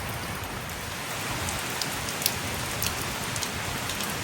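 Steady rain patters and drips on a Leopard 45 catamaran moored overnight on Whangārei Harbour, a dense continuous hiss with a few sharper drops standing out.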